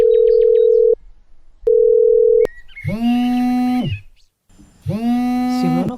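Ringback of an unanswered phone call: two long steady tones with a pause between, followed by longer harmonic electronic tones, loud and close with no talking.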